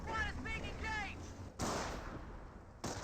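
Autocannon fire from a 222 armored car in the WWII strategy game Company of Heroes, two heavy bursts of shots with a gap between them. A voice talks before the first burst.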